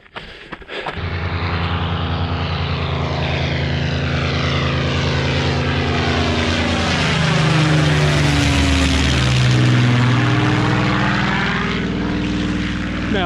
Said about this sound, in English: Have a Spitfire take off over your head.